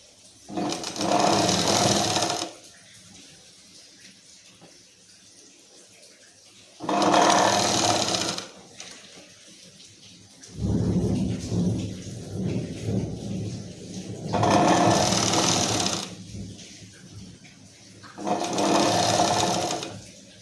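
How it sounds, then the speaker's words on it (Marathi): A sewing machine stitching sleeves onto a one-piece dress runs in several bursts of about two seconds each, a steady loud whirring rattle, separated by quieter pauses with handling of fabric. "अगदी लूज सोडून कापड आणि मार्जिन सोडून टीप द्यायची आहे"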